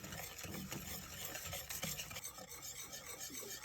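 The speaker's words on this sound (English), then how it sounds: "you're going to cook and stir this over about a medium heat" A sugar mixture being stirred over medium heat for a Lane Cake filling, giving a steady, continuous scraping and rasping of the spoon against the pan that runs the whole time, fairly close, with no talking.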